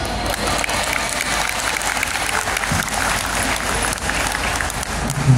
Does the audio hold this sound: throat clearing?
no